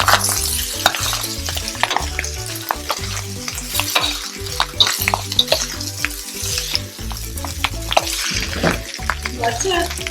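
Shrimp fried rice with dark soy sauce stir-fried in a pot, a steady loud sizzle broken by rapid, irregular scraping and tossing of the spatula against the metal, close up with no talking.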